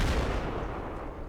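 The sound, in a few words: artillery firing in a video game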